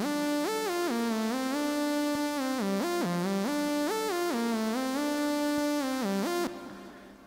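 A bright, buzzy sawtooth synth plays a stepping melodic line, loud and sustained, then cuts off abruptly near the end, leaving a faint tail.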